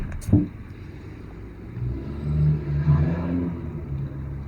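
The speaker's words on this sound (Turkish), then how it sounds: "Direkt arabayı çalıştır." A car engine in the Roblox game starts up and revs, a low rumbling drone building after a brief click and rising in pulses, fairly loud and close with no talk over it.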